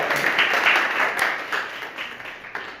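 An audience gathered in a library for a talk gives a burst of applause, a dense wash of clapping that is loud at first and then gradually thins and fades.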